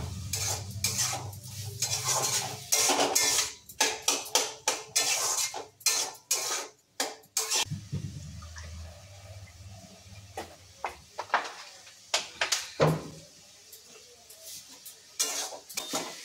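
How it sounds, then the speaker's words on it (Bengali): Onion, ginger, garlic and spices get stirred hard in a metal pan, a long run of close, uneven spoon clanks and scrapes with a faint sizzle underneath and brief pauses between bursts. "এই মশলাটা দিয়ে ভালো করে এবার কষবো। কষবো বলতে ভালো করে নাড়াবো যাতে কাঁচা গন্ধটা, পেঁয়াজ আদা রসুন কাঁচা গন্ধটা চলে যায়।"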